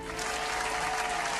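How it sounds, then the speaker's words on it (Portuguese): A burst of dense clapping from a small group, steady and close throughout the short stretch, with no voices over it. "Palmas."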